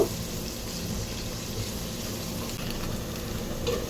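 Onions and chilies fry in a pan while being stirred, giving a faint, steady sizzle with soft scraping throughout, no voices.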